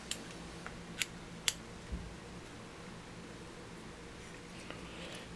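Scissors trim white Gliss-N-Glint flash while an Intruder-style fly is being tied, making a few crisp, close snips over a quiet background.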